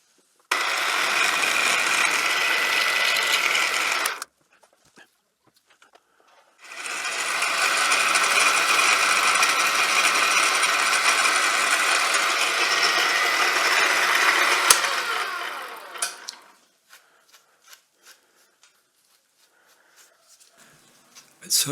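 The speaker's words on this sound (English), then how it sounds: "I'm using an 8mm end mill" A milling machine cuts a 10mm slot with an 8mm end mill for a curved bowl-turning tool rest, two long steady whining passes separated by a pause, then the spindle winding down into quiet clicks.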